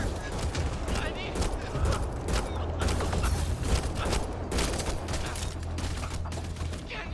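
Rapid gunfire bursts from the video game Mass Effect: Andromeda, a dense clatter of shots and mechanical clicks running steadily throughout over a low droning background, with voices speaking amid the fighting.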